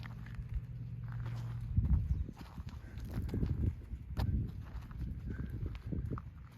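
Hooves of a ridden horse clip-clopping at an easy pace during a riding lesson, a steady run of close, muffled thuds on the ground with a faint low hum at the start.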